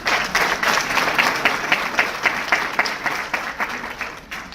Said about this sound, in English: Another round of applause for the candidates.